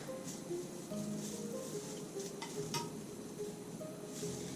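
Melt and pour soap mixture for an oatmeal, milk and honey bar being stirred in a container, faint continuous scraping and swishing with a few light clinks, close and alone.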